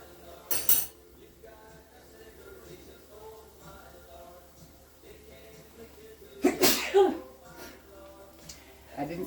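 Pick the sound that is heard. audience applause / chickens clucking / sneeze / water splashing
sneeze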